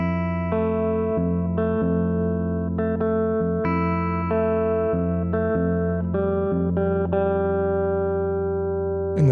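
Effects-laden guitar plays the second-chorus part of a song, ringing chords that shift at an even pace and sustain with a wash of echo, close and alone until a short thump at the end.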